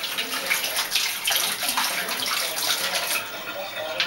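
Water pours out of a Coke bottle, a continuous splashing gush close by that runs steadily for several seconds without letup.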